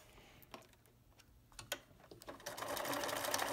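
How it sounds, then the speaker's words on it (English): A sewing machine zigzag-stitching a fabric face mask, heard faintly at first with scattered clicks, then running steadily and louder as the needle chatters through the cloth. "I sew it on about half an inch with a zigzag stitch"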